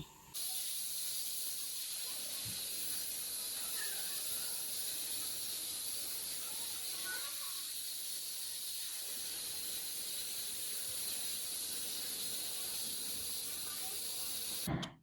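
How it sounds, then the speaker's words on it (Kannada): A pressure cooker hisses steadily on the stove during home cooking for a Shravan Saturday pooja, a faint, continuous steam jet with little variation throughout. "ಕುಕ್ಕರಿನ ಶಬ್ದ ಅಂತೂ ಸಿಕ್ಕಾಪಟ್ಟೆ ಬರ್ತಾ ಇತ್ತು."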